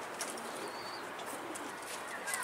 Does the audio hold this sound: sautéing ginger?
no